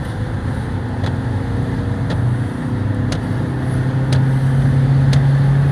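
A car accelerates hard on a race track, its engine droning loud and steady with a rising, sustained tone and faint periodic ticks, heard up close with no talk.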